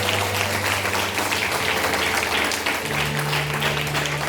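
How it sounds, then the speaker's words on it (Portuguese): A church congregation breaks into steady applause during a sermon, dense clapping that carries on evenly for several seconds over a low sustained hum in the room. "Pode aplaudir."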